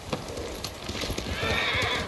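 Horses' hooves clip-clop steadily as a mounted party sets out in the samurai video game Ghost of Tsushima, quick rhythmic hoofbeats near and moderately loud, with a brief whinny and jingling tack.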